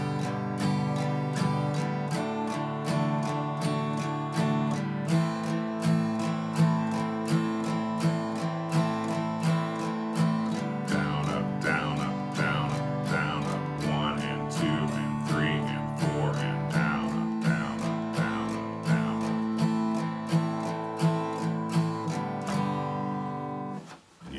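Acoustic guitar strummed in a steady down-up pattern, even rhythmic chords ringing continuously and close, played alone without talk.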